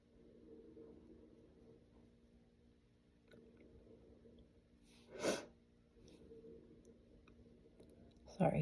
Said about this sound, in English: Sorry for the sniffling, I've had allergies.